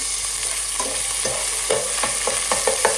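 Steady sizzling of ginger and garlic frying in hot oil, with soft scraping and stirring taps throughout, close and continuous.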